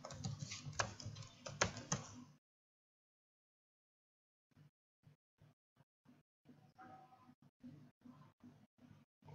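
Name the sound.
typing code on a computer keyboard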